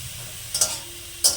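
Soft sizzling of kolai greens with turmeric frying in a pan over a low gas flame, with two brief louder bursts of stirring or scraping standing out against a low steady hiss.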